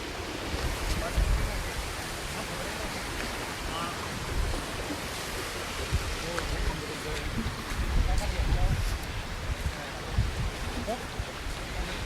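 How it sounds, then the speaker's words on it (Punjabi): Steady rushing roar of fast-flowing water, broad and continuous, with a voice faintly audible over it at times. "ਪਾਣੀ ਬਹੁਤ ਤੇਜ਼ ਹੈ ਬਹੁਤ ਤੇਜ਼"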